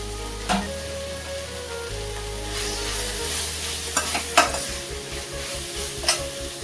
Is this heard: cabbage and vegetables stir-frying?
yes